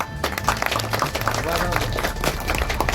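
Audience clapping at a Gir Gadhada taluka panchayat gathering to welcome the newly announced president, a dense burst of hands filling the whole stretch with crowd noise and speech babble mixed in.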